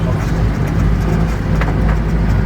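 A Fiat Doblo 1.2 driving with loose parts in the trunk, a loud continuous road and engine rumble with faint rattles and knocks over it, no talk.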